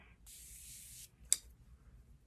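An aerosol can of matte foundation is shaken with a brief rattle, then sprays in a steady hiss for about a second, followed by a short sharp burst, close and fairly quiet.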